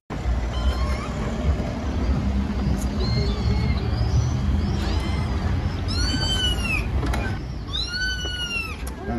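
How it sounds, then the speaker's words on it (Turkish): Repeated cat meows played from a mobile phone, thin and slightly electronic, rise over a steady low engine-like rumble near a vehicle, with several clustered calls toward the end. "Birkaç kez cep telefonundan açılan kedi sesiyle yavru kedinin çıkması beklendi."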